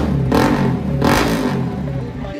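An NS200 motorcycle fitted with a loud Akrapovic exhaust revs hard twice in quick succession, each blip rising to a roaring burst before settling back to a rumbling idle close by.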